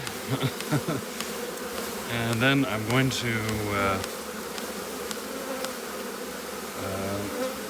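A swarm of honeybees hums and buzzes steadily while being installed into a hive in Vermont, close and continuous, and someone speaks briefly over it.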